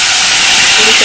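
Liquid is poured into hot tempering of popped mustard seeds for a thuthuvalai rasam, bursting into a loud, dense, steady sizzling hiss that fills the moment up close.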